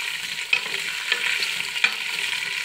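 Potatoes frying in oil as they are stirred in a pan, a steady hissing sizzle broken by three sharp spatula knocks at roughly even intervals, no voices.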